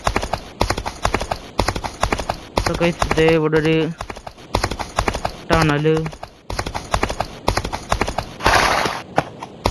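Horse hooves clip-clopping at a steady gallop in a western gunfighter video game, with a couple of neighs and someone talking over the rhythmic hoofbeats.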